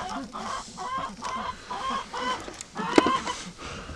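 A chicken clucks agitatedly close by among farm birds, giving repeated short clucks and a sharper squawk partway through over a murmuring barnyard background.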